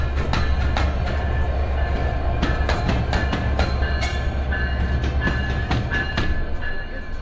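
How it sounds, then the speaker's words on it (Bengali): A locomotive is coupled to the Drutojan Express at Parbatipur station during an engine change, with a run of sharp metallic clanks and knocks over a steady low engine rumble, fairly close and with no one talking. "এই যে আমাদের লোকোমোটিভ এইটা লাগাচ্ছে এটা"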